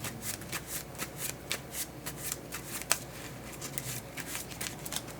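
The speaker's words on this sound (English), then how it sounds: "Let's shuffle." A deck of game cards riffled and shuffled in repeated quick bursts during a solo tabletop dungeon-crawl session, close and fairly quiet, with a sharper snap near the middle.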